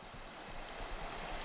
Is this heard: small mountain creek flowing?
yes